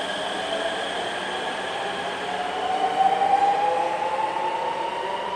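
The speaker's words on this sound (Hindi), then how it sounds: "तो ये लो भाई, अपनी ट्रेन निकल चुकी है" A Delhi-Meerut rapid rail train pulls out of the station, its steady rumble and electric hum rising as it gathers speed, with a faint high tonal whine climbing in pitch midway, heard from on board and without talk.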